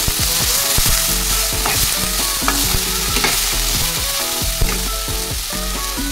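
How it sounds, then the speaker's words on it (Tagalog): String beans stir-fried with dried shrimp in a pan: a steady, loud sizzle with repeated scraping and clattering of stirring throughout. "Sunod natin, hulog ang ating sitaw. Siyempre, haluin lang."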